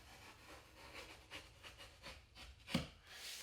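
A utility knife drawn along a drywall sheet, a series of quiet scratchy scoring strokes with one sharper scrape near the end, faint and close with no voices.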